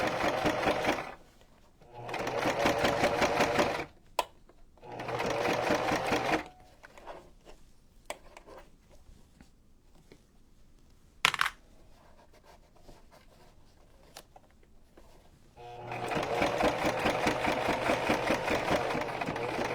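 A sewing machine stitching through three or four layers runs in loud bursts of rapid stitching, stopping and starting several times with quieter pauses and small clicks between runs.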